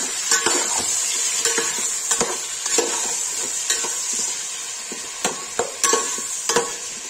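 Onions frying in a pan for chicken do pyaza are stirred with a spatula, and repeated scraping knocks rise over a steady bright sizzle, close and fairly loud, spaced at irregular intervals.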